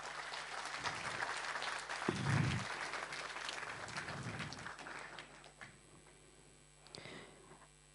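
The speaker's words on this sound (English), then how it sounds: "A big round of applause for Ms. Rama." Modest applause from a small audience at a book discussion in Mumbai, faint and thinning out after a few seconds into near silence with a few stray claps.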